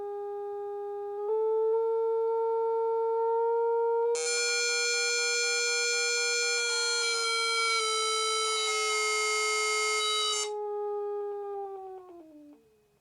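A space theremin holds a pure, steady electronic tone that slides upward, then turns into a harsh, buzzy square-wave sound with dense overtones before falling back to a smooth tone and fading out.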